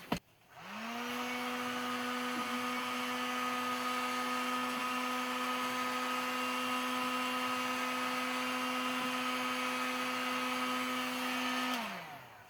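A heat gun runs at a steady, even whine while heating plastic to renew it. It starts with a click, holds a constant tone for about eleven seconds, then winds down, close up with no talking.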